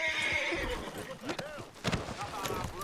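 A horse whinnies in the video game Red Dead Online, a couple of short neighs amid clip-clopping hooves and game noise, with someone talking over it.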